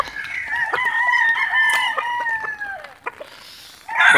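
Gamecocks stranded in deep floodwater crow in long, drawn-out calls, one loud crow carrying across the first three seconds, followed by a brief lull and a burst of clucking at the end.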